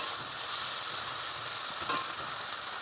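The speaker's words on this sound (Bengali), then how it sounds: "এই যে প্রনগুলো সব তেলের মধ্যে দেওয়া হচ্ছে। এটাকে ভালো করে ভেজে নিতে হবে।" Prawns fry in hot oil in a home kitchen, a close, steady, dense sizzle that holds at an even loudness throughout, with one brief flare near the end.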